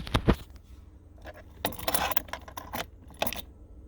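A bunch of keys set down on a wireless phone charging pad in a 2019-2020 Toyota RAV4, giving a short jangle and clatter, followed by a couple more metallic rattles as they settle.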